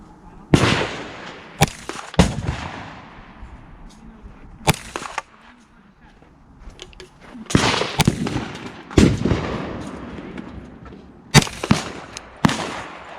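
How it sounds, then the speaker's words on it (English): Gunshots ring out at an outdoor shooting range, several sharp loud cracks spaced irregularly across the span, some in quick pairs, each followed by a short echoing decay and quieter background noise between them. "I'm gonna go scope it out and see if those 5 shots hit his head"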